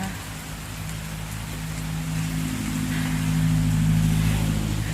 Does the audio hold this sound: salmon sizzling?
no